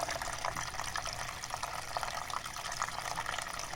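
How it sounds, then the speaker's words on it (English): Water runs steadily into an Arrow Garden Alternative Sprouter, a faint continuous hiss and trickle like a tap filling, with no voices. "Turn the water on for a little while, and then turn it off just to get some aeration in here."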